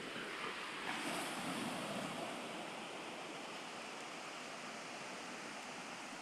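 Ocean surf at low tide on the sea at La Union, a steady broadband wash of waves with some wind noise on the microphone, continuous and fairly close, no voices.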